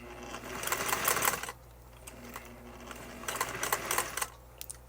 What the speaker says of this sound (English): now I'm going to do the straight stitch at 12 stitches per inch